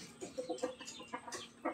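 Rhode Island Red chickens cluck in a quick, irregular series of short, soft calls, close by, with no talk over them.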